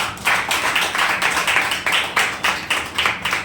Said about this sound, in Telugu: చేసిన వాళ్ళకి ఒకసారి గట్టిగా చప్పట్లు కొడతారు.